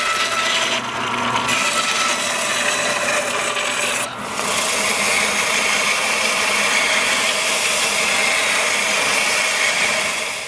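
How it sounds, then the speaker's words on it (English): A bandsaw cuts thickness off a clear cedar bowl, an end-grain turned piece five inches square, giving a steady, loud, continuous rasping buzz that runs throughout with one brief dip partway. "I'm going to put it on the bandsaw and cut some thickness away right now"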